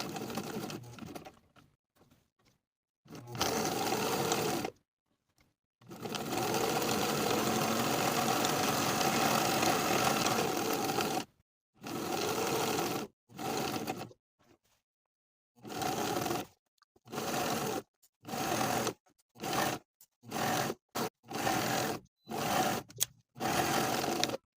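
Sewing machine edge stitching around all four edges of a cropped jacket collar, pivoting at each corner: several long runs of steady stitching, then a series of short bursts separated by silent pauses.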